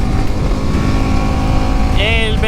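A BMW G 310 GS Rally motorcycle accelerates in third gear, its engine a steady loud drone with a rising whine near the end, mixed with wind rush, as if recorded from the rider's seat.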